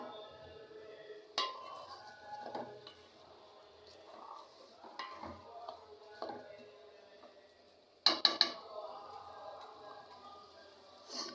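Rice is being stir-fried in a pot for homemade biryani, with quiet scraping and occasional metallic clinks of a spoon against the pot, plus a burst of sharper knocks later, all fairly faint and close.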